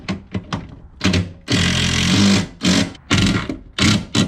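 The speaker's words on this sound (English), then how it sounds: "let's tighten up these bolts and that should be it" A handful of short mechanical bursts, then a long loud rasping run of tool noise tightening bolts on a Dodge Challenger Scat Pack, followed by more brief clattering bursts, close up.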